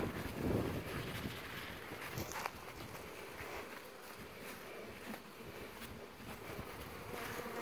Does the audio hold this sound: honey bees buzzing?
yes